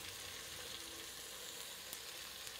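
Carrot, onion, celery and leek sautéing in a pan for a brie and prosciutto risotto, giving a steady, close, even frying sizzle with faint stirring scrapes throughout, no voices.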